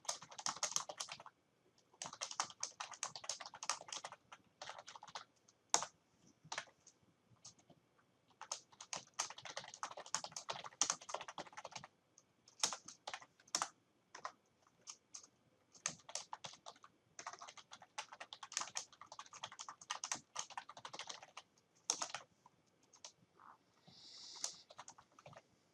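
Continuous typing on a computer keyboard while entering placeholder text and subheadings in a document, with bursts of rapid, crisp key clicks broken by short pauses, close and clear with no voices.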